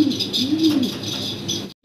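Pigeons coo and murmur at a pigeon farm, a soft continuous low warbling with bird calls over steady ambient noise, close by, cutting off briefly near the end.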